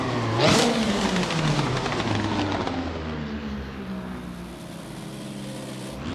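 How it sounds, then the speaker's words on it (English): Ford Fiesta WRC rally car engine in the racing game Assetto Corsa at Sebring, a rising rev at the start that sweeps up, then a long engine drone that gradually falls away, heard alone without talk. "You can probably hear the car here."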